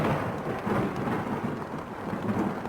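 Low rumbling thunder rolls beneath steady rain during a rainstorm at night, a continuous dense wash of sound with no voices.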